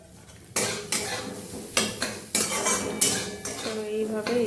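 A spoon scrapes and clanks against a pan as semolina is dry-roasted with turmeric for a spicy suji dish. Repeated close, sharp strokes come in an uneven rhythm, with no talking.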